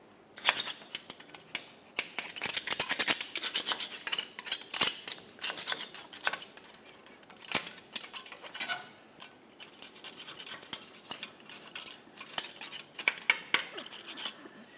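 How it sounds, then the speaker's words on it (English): A flat scraper rasps along the sides of the rear differential cover on a 2004-2008 Ford F-150, with repeated irregular scratchy strokes, close and fairly loud, and no talking. "We can just use a flat scraper for this."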